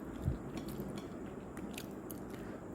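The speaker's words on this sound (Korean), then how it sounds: "야식을 맛있게 먹어야 되겠습니다." Close chewing and biting of a late-night snack, with a crunchy bite early on followed by steady soft mastication noises, intimate and quiet with no talking.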